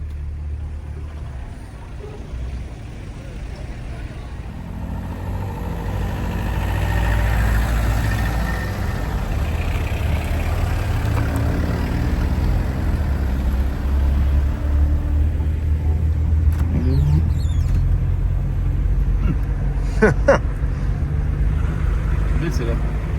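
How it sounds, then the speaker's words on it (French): Tired-sounding car engines at the Alpina Raid 2025 rally rumble and idle roughly, a low steady drone that swells after a few seconds while people talk over it. "Les voitures, on a des moteurs qui ont l'air un peu fatigués quand même"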